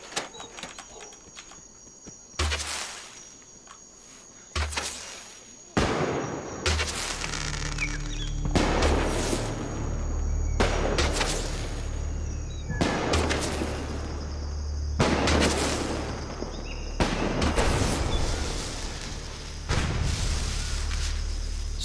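Fireworks in the video game Fallout 4, a series of loud booming bursts every couple of seconds, each followed by a crackling, hissing tail, with no talking.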